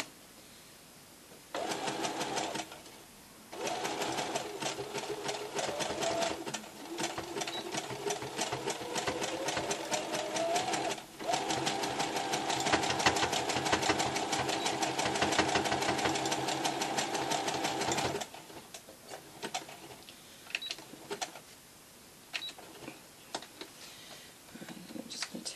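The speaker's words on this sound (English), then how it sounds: "And then I'm just going to sew straight down" A sewing machine stitches a decorative tea towel with a steady, close whirring hum. It runs in long stretches, pauses briefly, and ends in shorter stop-start bursts.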